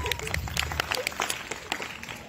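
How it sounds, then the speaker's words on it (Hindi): A team clapping together at a party held at a resort, scattered sharp claps building into brief applause with people talking and calling out over it. "सो एक बार जोरदार तालियां खुद के लिए,"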